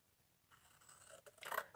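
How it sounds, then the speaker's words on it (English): Scissors snipping through paper card for a concertina stepper card, faint at first and then a few close, crisp cuts building toward the end, with no talk. "I'm just going to start with cutting with my scissors"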